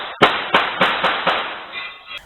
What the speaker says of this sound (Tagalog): Maya-maya pa, sunod-sunod na putok ng baril ang narinig.